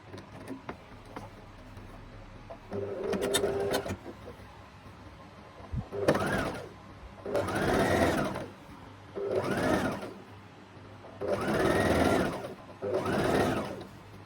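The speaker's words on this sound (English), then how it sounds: "So we sew on the side of the waistband like this." A sewing machine stitches the side seam of a half-circle skirt waistband, running in several close, whirring bursts of one to two seconds separated by short pauses.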